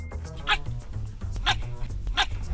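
A dog barks in a road safety public service announcement, three sharp, close barks spaced about a second apart over a low background rumble.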